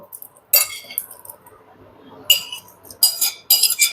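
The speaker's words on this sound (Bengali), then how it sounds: "ব্লাইন্ডারে ঢুকানোর পরও টমেটোগুলোর থেকে অনেক ধোয়া বেরোচ্ছিল তাই চামিচ দিয়ে আমি একটু ভালো করে নাড়াচাড়া করে আর একটু ঠান্ডা করে নিচ্ছিলাম" A metal spoon clinks and scrapes against a blender jar as it stirs steaming hot tomatoes, with several sharp bright clinks and quiet gaps between them. The sound is close and there is no talking.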